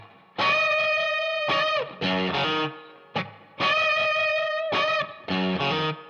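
A distorted electric guitar plays a riff, bending and sustaining notes in two repeated phrases with brief gaps, loud and close.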